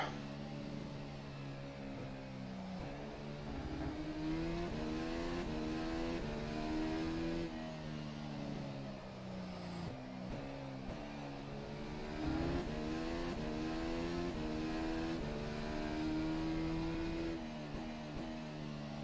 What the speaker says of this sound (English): So we're gonna box this lap to park the car into the garage and then take a nap of sleep.